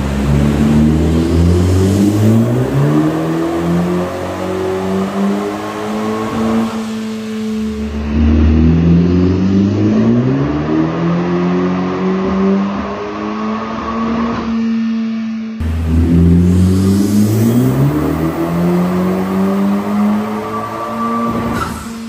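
2018 Honda Civic Type R engine on a dyno during tuning runs, revving up repeatedly in long rising sweeps. The tone climbs steadily through each pull, then drops back, loud and close.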